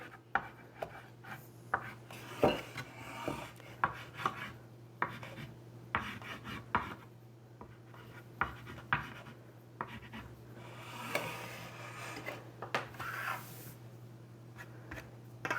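Wax rubbed by hand onto the edges of a wooden chair ahead of chalk painting gives soft, scratchy strokes in an irregular rhythm, quiet and close, over a low steady hum.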